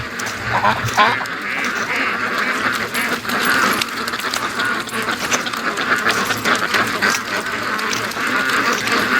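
Muscovy ducks on a lake at a free-range flock, with steady, close quacking and chattering throughout while a person talks over the birds.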